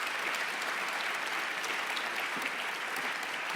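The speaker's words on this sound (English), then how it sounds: "give them a big round of applause" A conference audience gives a round of applause at an opening session, with a continuous, even roar of many hands clapping throughout, sounding somewhat distant and uniform.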